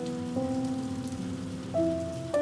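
Steady rain falls in an even, close hiss beneath soft sustained musical tones that change pitch now and then, with no one speaking.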